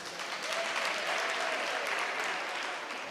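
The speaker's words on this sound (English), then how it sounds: "I think that debate deserves another round of applause." Audience at a national debate championship final applauds after a debate, a steady, fairly soft and somewhat distant patter of many hands that holds evenly throughout.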